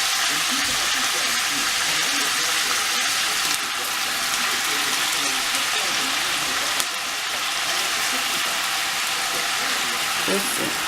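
Cabbage cooking in a covered pot for a soul food Sunday dinner, giving off a steady, even hiss of steam and sizzle that holds at one level throughout, close by and uninterrupted.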